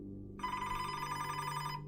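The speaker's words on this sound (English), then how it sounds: "phone rang" A telephone bell rings steadily and fairly loud for about a second and a half, one continuous metallic trill against a low background hum, with no talking.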